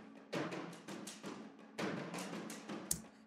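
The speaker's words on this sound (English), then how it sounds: "I use this toms ensemble patch to sketch the idea." A simple percussion sketch played on a toms ensemble sample patch: quiet, uneven booming drum hits with a few clustered strikes and a sharper accent near the end.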